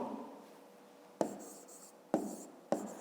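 Pen writing on paper during a maths exercise, three sharp brief strokes or taps at about 1.2, 2.1 and 2.7 seconds over a faint, quiet background.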